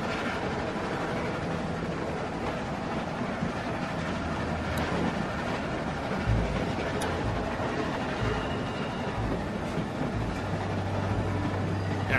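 A train rolls on its rails in The Walking Dead video game, a steady rumbling roar with low thuds and faint clatter throughout, and no voices over it.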